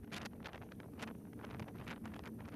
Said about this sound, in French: Les températures sont négatives, sans compter les rafales de vent.